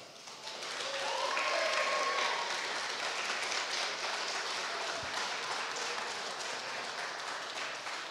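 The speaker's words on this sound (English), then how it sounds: "Let's welcome to the stage and give a warm round of applause to our second candidate for the night, James Butler." Sustained audience applause at a student election candidate question-time event, a dense wash of clapping that swells in the first couple of seconds and holds steady throughout, with no speech over it.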